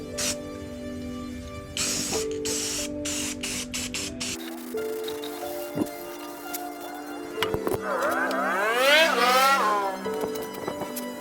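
An aerosol can sprays paint onto a wooden golf cart seat in several short hissing bursts close by, followed by clicks and handling noises and a rising whine, with a voice heard briefly.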